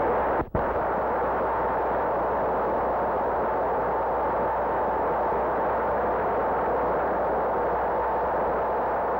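A 1946 atomic bomb test explosion as a continuous, dense, roaring rumble that holds steady and loud throughout, opened by a brief sharp break near the start.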